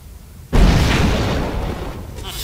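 Grenade explosion in the video game Fable 3, a sudden loud close blast that hits after a brief quiet moment and then rumbles on with debris noise for about two seconds.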